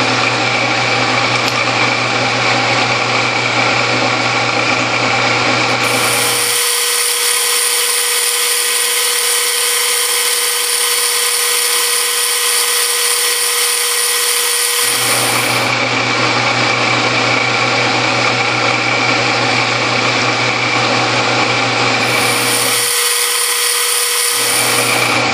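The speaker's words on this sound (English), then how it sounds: "Could be, this drill isn't very sharp." A machine drill runs in long continuous stretches on a lathe at fairly low speed, a somewhat dull bit cross drilling with a tailstock jig, its high whine cutting in and out as the bit engages, loud and close with no talking.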